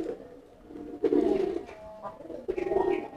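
Close fantail pigeon cooing in two deep, throaty bursts, separated by a quieter pause with faint background noise.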